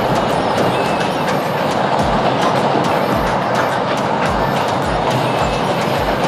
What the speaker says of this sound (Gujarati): આ ટ્રેન પસાર થઈ રહી છે અહીંયા